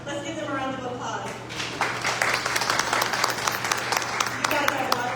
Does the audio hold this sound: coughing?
no